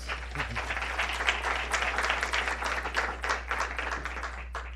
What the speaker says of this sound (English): let's give all these candidates a round of applause